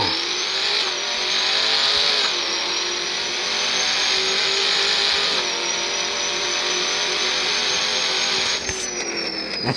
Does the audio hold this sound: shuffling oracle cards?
no